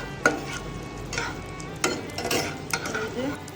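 Cashews and raisins stirred in a frying pan: a soft, steady sizzle of hot oil, broken by several sharp spoon scrapes and clinks against the pan, close up, with no voices.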